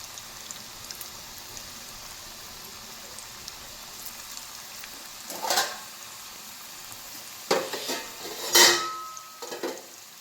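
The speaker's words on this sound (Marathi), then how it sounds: "आता हे तळून बघूया कशी होत्या." Chapati alu vadi frying in oil in a home kitchen, with a faint, steady sizzle under quiet ambience and a few louder clinks and scrapes of utensils against the pan.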